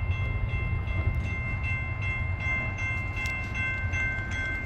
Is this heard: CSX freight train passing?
yes